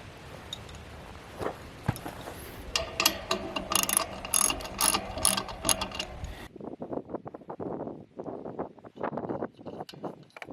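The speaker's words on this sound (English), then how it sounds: "what you're going to need is a ratchet and a 10mm socket" Ratchet with a 10mm socket turning out the screws of a satellite dish transmitter: rapid close clicking bursts, louder and denser in the middle, then quicker, lighter ticking toward the end, with no talking.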